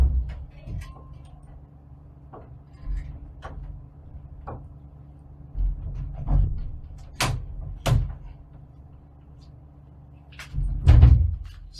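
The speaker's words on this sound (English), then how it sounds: "Stubborn door, but I got it." A stubborn door being worked open in a quiet room: scattered knocks, clicks and thuds, then louder bumps and a final heavy rattle near the end, with no voices.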